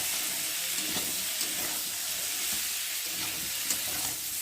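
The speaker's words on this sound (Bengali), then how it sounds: "চিংড়ি মাছগুলো দিয়ে দিলাম একসাথে। আমি ভালো করে কষিয়ে নেব।" Prawns are fried and stirred with spices and cauliflower in a pan, giving a dense, continuous sizzle with soft scraping spatula strokes. It is close and steady throughout, with no talk.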